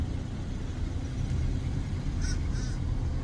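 A bird calls twice in quick succession, faint and some distance off, over steady low rumble near a lake at sunset.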